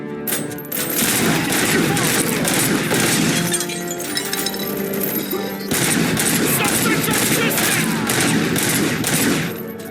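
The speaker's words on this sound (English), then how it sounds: "Keep firing!" Sustained gunfire from the RoboCop: Rogue City video game, dense bursts of shots with shattering and breaking debris over an action soundtrack, loud and continuous with a brief dip near the middle.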